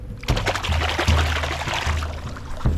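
Water splashed by hand at the edge of a shallow island shore to attract a bull shark, giving a continuous close wet sloshing with repeated surges and a sharper splash near the end.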